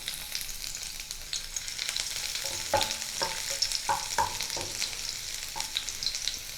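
Chopped garlic frying in mustard oil in a hot wok (kadai), a steady close sizzle broken by several sharp scraping stirs of the spatula.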